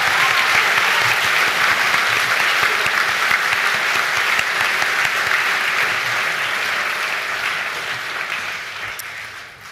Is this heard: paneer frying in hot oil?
no